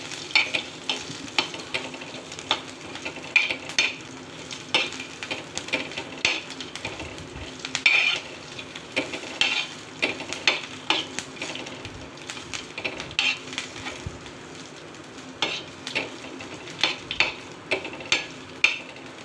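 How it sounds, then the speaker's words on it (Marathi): Eight to ten garlic cloves frying in hot oil in a pan for a green chilli thecha, with a steady crackling sizzle and frequent scraping stirs of a spatula throughout, no voices. "आता आपण हे छान मस्त परतून छान तेलामध्ये भाजून घेऊयात"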